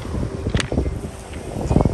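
Wind gusts buffet the microphone on a beach at Lazarevskoye, a steady broadband rush with a few louder swells, and a voice is faintly present.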